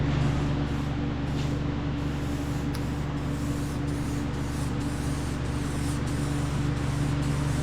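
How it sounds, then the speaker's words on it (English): A spray paint can hisses out light blue automotive paint in a garage shop, a steady broadband spray running the whole time with faint brief breaks, close and fairly loud. "This can of paint here is spraying some light blue streaks too"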